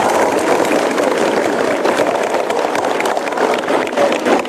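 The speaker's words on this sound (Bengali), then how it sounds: "এটা কিন্তু আরেকবার হাততালি হোক।" A crowd of schoolgirls at a girls' high school applauds, a dense, loud, continuous clapping that stays close and sustained with no clear break.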